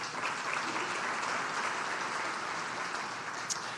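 Audience at a parish community address applauds Joe with steady, sustained clapping from a crowd, evenly loud for the whole stretch.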